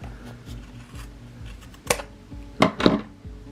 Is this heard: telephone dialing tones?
no